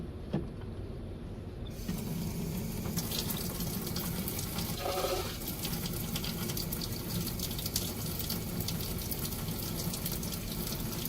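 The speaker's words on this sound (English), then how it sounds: "we're going to refill this container with a bit of water" Tap water running steadily into a container in a fish room, a continuous close rushing and splashing that starts after a short quieter moment and holds for about ten seconds.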